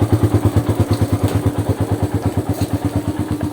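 A carbureted Suzuki Raider 150 motorcycle idling just after a cold start, a loud, close, rapid even putter of engine pulses, steady throughout with no talk.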